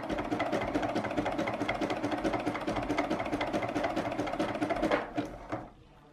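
A sewing machine runs steadily, stitching along the edge of a fabric rope bowl with a fast continuous mechanical rattle, loud and close, then slows and stops near the end.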